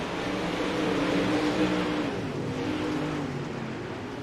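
UMP Modified race cars roar around a dirt track at a Wichita speedway, a dense and steady engine drone at a distance that blends into a continuous wash of crowd and track noise.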